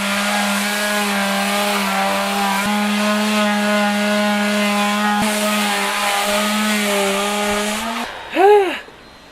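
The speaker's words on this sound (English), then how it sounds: "Sanding a lot." Steady, loud motor whine of a power sander running continuously on teak wood, with a strong hum, ending in a brief rising-and-falling whir as it spins down.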